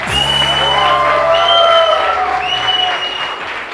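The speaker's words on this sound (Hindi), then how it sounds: "सबसे पहले इन 11 लोगों के लिए बहुत सारी तालियां।" Studio audience on a Pakistani morning TV show applauds steadily and loudly, the clapping continuous with some cheering and whoops, while tonal music and a voice run over it.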